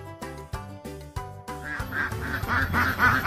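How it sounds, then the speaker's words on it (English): A duck quacks in a quick series of loud, nasal calls, several separate quacks at first, then overlapping honking calls that build toward the end, close and clear. "Ducks."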